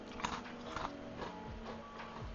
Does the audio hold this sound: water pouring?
no